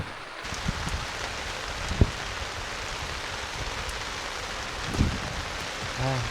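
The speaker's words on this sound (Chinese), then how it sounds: "這個雨還在下呀。" Steady rain falls in a continuous hiss outdoors on a rainy day by the water, with a few faint thuds and knocks near the mic and no one speaking.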